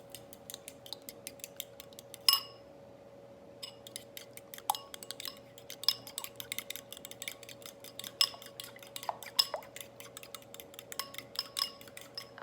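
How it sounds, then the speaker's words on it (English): A fork whisks three eggs in a bowl, a quick run of light, irregular metallic clicks and taps against the bowl, fairly close and with no talk over it. "I'm gonna take my fork and I'm just gonna whisk it together"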